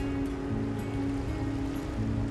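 Steady wash of ocean waves and water around a small, narrow outrigger boat on rising swells, a continuous dense rushing noise with no talk.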